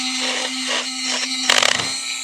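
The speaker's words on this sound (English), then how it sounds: "I'm gouging out all these cracks, V'ing them out with a Dremel with a carbide burr on it" A Dremel fitted with a carbide burr grinds V-grooves into cracks on a Scout 800 steering wheel, a close high-pitched whine with a short rougher burst of cutting partway through.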